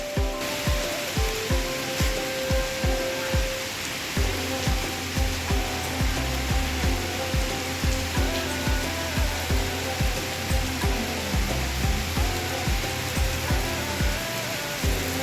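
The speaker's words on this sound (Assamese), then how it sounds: "লগতে শিলো পৰিছে, এয়া চাওক" Heavy rain with hailstones in Uttarakhand pours down in a loud, dense hiss, with a steady rhythmic thumping running through it and no talk.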